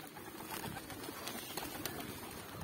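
Black pigeons coo softly in a loft while grain is scattered for them, a steady low murmur of calls close by with faint rustling and no talk.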